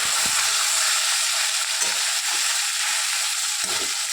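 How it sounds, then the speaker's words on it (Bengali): Fish dropped into a hot wok with nigella seeds, frying in a steady loud sizzle with a few soft clanks of stirring. "এবার দেখুন আমি মাছটা দিয়ে দেবো। এবার একটু নাড়াচাড়া দেবো হালকা করে।"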